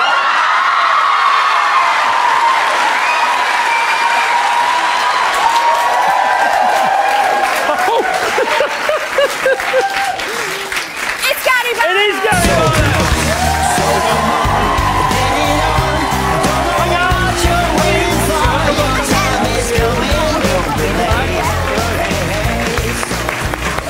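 A television studio audience cheering, whooping and applauding a guest's walk-on, loud and sustained, with music entering partway through and voices mixed in.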